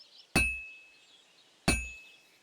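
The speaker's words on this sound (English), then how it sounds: "I have to hammer it more evenly" Two ringing hammer strikes on metal at a forge in the video game Kingdom Come: Deliverance II, each a bright clang fading slowly, spaced about a second apart in a quiet setting.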